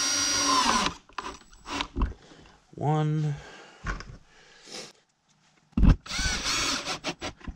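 A power drill driving bolts whirs in a short, rising burst between stretches of nearby talk, with a few clunks and handling noises around it.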